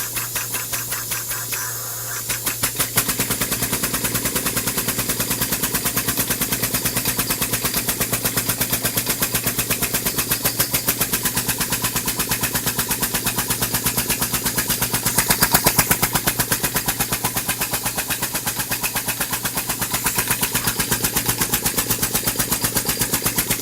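A small compressed-air engine starts after a brief hiss and settles into a fast, even machine-gun-like chatter, loud and close, running steadily with a slight surge partway through.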